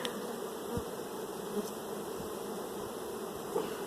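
A dense swarm of bees hums steadily and close by, a continuous droning buzz that rises and falls slightly, with no talking.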